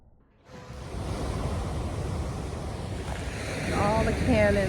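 Atlantic Ocean surf at Cape Coast Castle roars in after a brief quiet start, a broad steady wash of breaking waves mixed with wind buffeting the microphone that swells louder toward the end.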